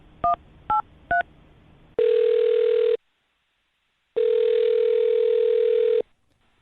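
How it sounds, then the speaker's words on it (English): Three quick keypad tones are followed by two long, steady ringback beeps separated by a pause of silence. "I'm going to dial her phone number right now"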